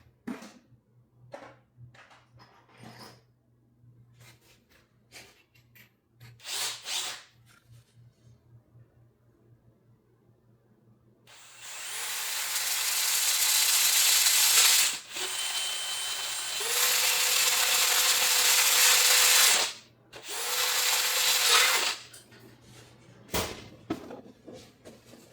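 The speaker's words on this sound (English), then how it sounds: "Grab my drill here." A power drill bores a hole through a fiberglass instrument cluster bezel and upper dash panel, whining loudly in several sustained bursts with brief pauses, after quiet handling clicks and taps.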